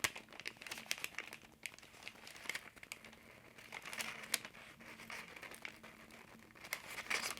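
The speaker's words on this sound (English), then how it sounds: "You have to peel carefully, but they just peel off." Stickers peeled one after another off a journaling sheet, including apple stickers with stem and leaf, give soft crinkly rips and crackles close by, quiet and intermittent throughout.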